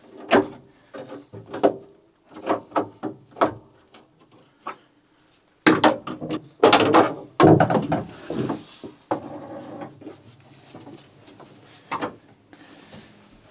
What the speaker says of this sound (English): I'm just going to open up these clips.